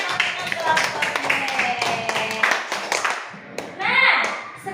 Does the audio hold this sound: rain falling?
no